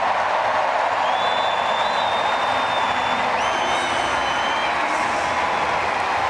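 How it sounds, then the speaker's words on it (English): A stadium crowd at a women's 100m hurdles race roars and cheers continuously as a hurdler appears on the big screen, a dense, sustained wall of noise with faint whistles riding on top. "they see her on the big screen and they start to cheer"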